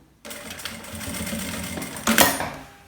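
Sewing machine stitching a fabric shampoo-holder pouch with bias binding, running steadily for about two seconds, then a short burst of stitching near the end, close and clear with no talking.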